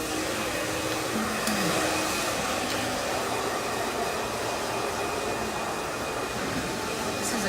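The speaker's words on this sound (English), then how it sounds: "pass me the dryer" A hair dryer blows during a salon haircut, giving a steady, loud, close whirring rush of air that holds unbroken throughout.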